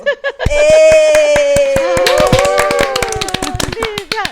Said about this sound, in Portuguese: Vamos receber a Lívia com aplausos.